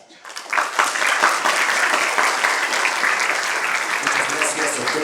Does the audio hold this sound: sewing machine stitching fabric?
no